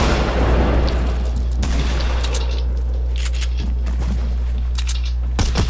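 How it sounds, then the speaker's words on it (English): Gunfire in a video game battle, rapid shots and booming reports layered over a heavy low rumble, loud and close, with a few sharper bursts standing out toward the end. "He's shooting at me."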